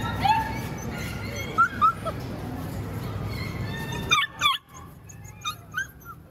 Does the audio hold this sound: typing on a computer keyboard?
no